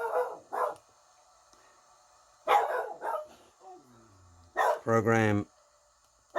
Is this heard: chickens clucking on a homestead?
no